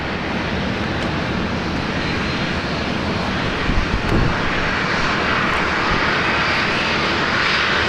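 Virgin Australia jet pushing back at Brisbane Airport, a steady, loud engine roar and broadband whoosh that holds throughout with a brief surge near the middle, no talking.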